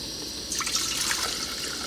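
Water, 32 ounces or about one liter, poured into a pot on a discontinued MSR Rapidfire camp stove: a steady hiss that swells into a fuller, splashing stream about halfway through, close and moderately loud.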